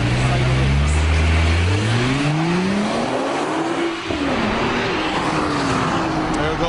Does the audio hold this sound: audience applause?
no